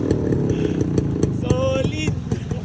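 A 1990s Kawasaki HD3 125 motorcycle engine sputters and runs near the mic, a rough, rapid two-stroke-style chatter with uneven pops, while voices talk over it.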